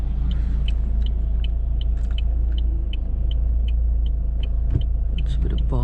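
A remapped Vauxhall Astra J, boosted from 129 to 166 bhp, drones steadily from inside the cabin as it accelerates, with a low engine rumble and road noise under faint talk.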